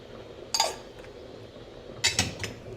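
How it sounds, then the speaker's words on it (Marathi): A metal kadhai set down on a gas stove gives two sharp clanks, one early and one later, with a quiet kitchen in between. "गॅसवर कढई ठेवली आहे, थोडंसं तेल टाकून घेत आहे।"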